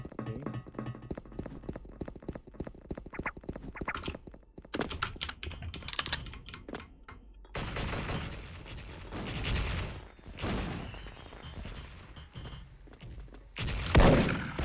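Sniper rifle shots in the online shooter Special Force ring out as sharp broadband cracks amid busy in-game clatter, clicking and scattered gunfire, with a heavier blast near the end.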